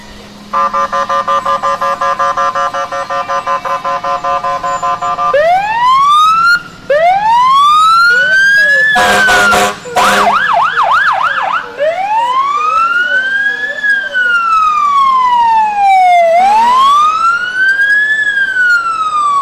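Loud wailing fire truck sirens in a homecoming parade in Edinboro sweep up and down repeatedly, with a burst of horn blasts in the middle, close and continuous.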